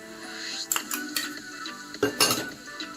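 Sugar being stirred in a pan for a date modak filling: irregular scraping and sharp metallic clinks of a spoon against the pan, close up, with a few louder knocks.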